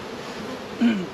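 Honey bees drone steadily around opened hive boxes while hives are split and honey boxes are added. Near the end a louder, closer buzz swells, as if a bee passes right by.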